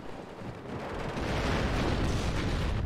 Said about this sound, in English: Oh, you destroyed the building.